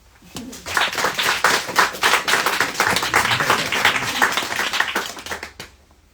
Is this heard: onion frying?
no